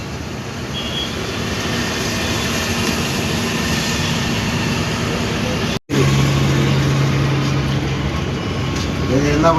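Driver's cabin of a moving bus travelling from Hyderabad to Vizianagaram, a steady loud engine drone and road rumble with a sustained low tone and a brief drop partway through.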